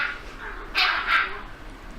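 A dog barks twice in quick succession at moderate distance, sharp bursts over a quiet background with faint whimpering tones between.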